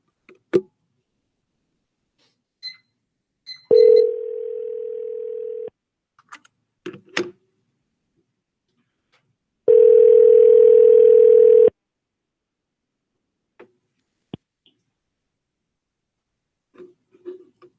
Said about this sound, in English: All right, we got a voicemail for Ms. Stapleton.